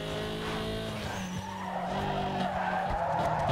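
A car skids under the handbrake in the racing game Need for Speed: Underground 2, its tires squealing through a sustained slide over a steady engine drone, loud and close.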